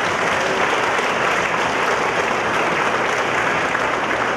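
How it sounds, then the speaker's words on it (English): Sustained applause from a seated audience honouring awardees at a United Nations peacekeeping ceremony, a dense, even wash of many hands clapping at steady loudness for several seconds with no talk over it. "let's give all the awardees another big round of applause."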